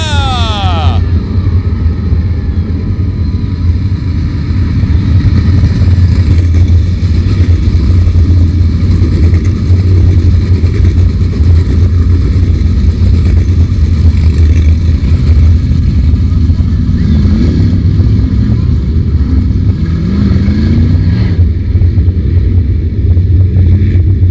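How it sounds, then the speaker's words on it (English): A pack of 305 sprint cars roars around the oval at Attica Raceway Park, a loud sustained engine drone with revving swells throughout, under a public-address announcer's voice. "We're going to go racing out of turn 4 next time by Mike Bussey."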